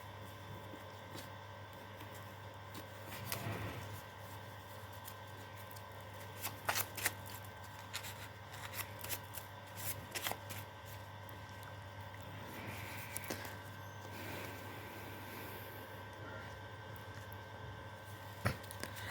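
Handmade tarot cards being shuffled in close, quiet bursts of soft riffling and slapping, spaced irregularly across a steady low background hum, with no voices.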